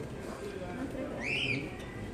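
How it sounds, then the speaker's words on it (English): Pet store birds, including a cockatoo, give one short whistled call from a cage, heard over steady store background noise with no one talking. "Let's look in this one. You see the birds?"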